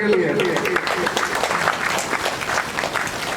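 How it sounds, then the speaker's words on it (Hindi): Applause from an audience at a public event, a steady continuous clatter of many hands heard close and loud throughout, with a speaking voice running underneath. "जरा तालियां तो बजाते हैं"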